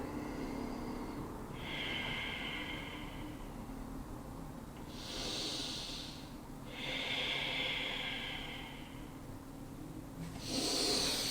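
Deep yoga breathing, with slow, audible inhales and exhales through the nose, airy and close, repeating in a calm rhythm with no talking.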